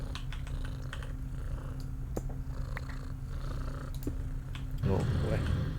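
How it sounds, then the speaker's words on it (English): A cat purrs close and steady with a low continuous rumble, under rapid computer keyboard typing, growing louder near the end; a voice is faintly present. "You must be really comfy if you're purring that much."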